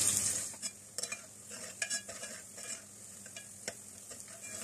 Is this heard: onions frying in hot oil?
yes